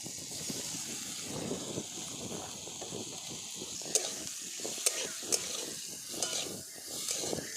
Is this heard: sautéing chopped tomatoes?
yes